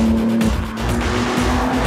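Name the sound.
BMW M3 Touring car drifting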